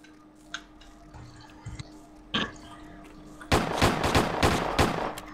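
Gunfire in Operation Flashpoint: a few isolated distant shots, then a loud rapid burst of automatic fire crackling near the end.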